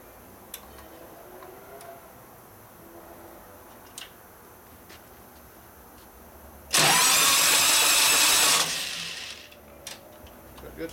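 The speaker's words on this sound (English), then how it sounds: "I'm gonna spin the motor through without the plugs in it, see what happens" A 2001 Indian Scout motorcycle engine, an 88ci S&S big-bore Evo-style motor with its spark plugs removed, is spun over by the starter: a loud, brief whirring burst of about two seconds, with faint ticking before and after.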